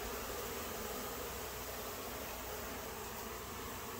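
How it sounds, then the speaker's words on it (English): Honey bees from a rescued colony of about 40,000 swarm loose after a hive cleanup, a steady, even drone of buzzing close around with no pauses. "Still a bunch of bees kind of lost everywhere."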